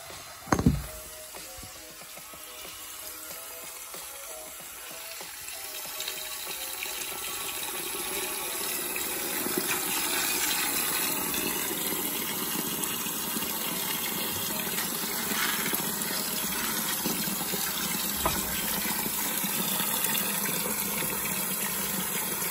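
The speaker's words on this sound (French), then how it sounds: "on va mettre de l'eau dedans, à peu près à ras-bord" Water gushing steadily into a large metal tub being filled nearly to the brim for preparing corn, a loud continuous rushing pour with a brief clank at the start.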